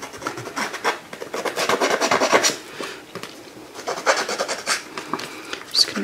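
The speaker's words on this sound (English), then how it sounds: "So I've just got a little Tim Holtz distressing tool" A small Tim Holtz distressing tool scrapes along the paper edges of a Christmas shaker card, giving a dry, close rasping that comes in repeated strokes with brief pauses between passes.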